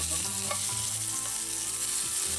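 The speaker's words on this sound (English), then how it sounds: "Just let them cook for 5 minutes, and then flip them over once they're brown on one side" Homemade German-style burger patties fry in a pan with a dense, even sizzle that holds steady throughout, close and fairly loud, no voices.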